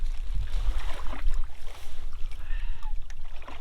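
Canoe paddling on a lake in Algonquin backcountry: soft water swishes and dull knocks against the hull over steady wind and water noise, close by, with no voices.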